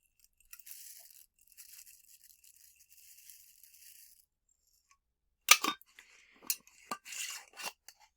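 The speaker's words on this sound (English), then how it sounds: "And now I'm going to add some oats, my cereals." Oats poured into yogurt in a bowl, first a faint light rustling trickle, then after a pause sharper crisp scrapes and clinks of spoon and container, all close and quiet.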